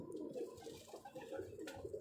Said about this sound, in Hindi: ये प्योर जौनसिरा कबूतर है